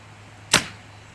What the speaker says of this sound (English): this is the first time I shot this bow